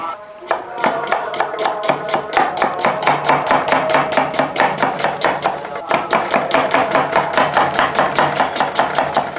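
Three medium onions being sliced lengthwise with a knife on a board, steady quick chopping strokes repeating evenly and close throughout.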